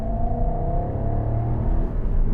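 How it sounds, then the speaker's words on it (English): A 2012 Jaguar XK 5.0 V8 Portfolio coupe accelerates hard from inside the cabin, its engine note a steady, rising drone that holds loud and continuous for the whole stretch with no talking. "Hit the gas again."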